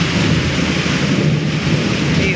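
Heavy rainstorm with thunder, a loud continuous roar of rain and rumbling thunder filling the whole stretch with no pause and no talking.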